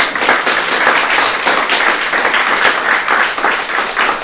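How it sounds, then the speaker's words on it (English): Audience at an academic talk on an Italian Risorgimento translator gives a round of applause, loud and close, a continuous patter of many hands throughout. "Another round of applause to them."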